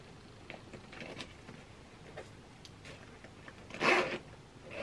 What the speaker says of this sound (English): Let me just check the main zip.